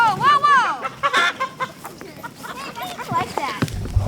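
Chickens squawk and cluck loudly and frantically while being caught by hand in a backyard for butchering, repeated agitated cries close by, with people talking over the commotion.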